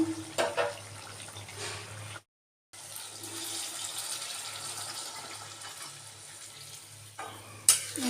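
Water from soaking paneer being poured into a pan of potato curry: a running, splashing wash of liquid over a low simmer, broken by a short silent gap and a sharp clatter near the end.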